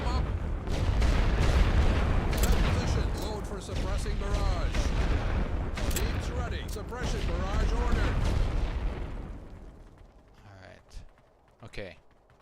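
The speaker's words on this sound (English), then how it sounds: "Load for suppressing barrage." Artillery barrage firing in the WW1 strategy game The Great War: Western Front, a dense rumbling mass of booms and gunfire under layered battlefield noise and voices, thinning out toward the end with a few isolated blasts.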